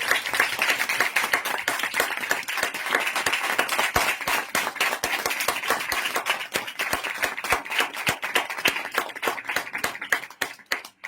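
Crowd at a religious gathering applauding to welcome a speaker, with sustained, lively clapping from many hands, sharp individual claps standing out as the applause carries on and tapers off at the end.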